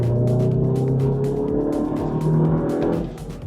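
Petrol Volkswagen Golf GTI engine running on a race track, a loud steady drone with harmonic tones that shift as revs change, close and continuous with no talk.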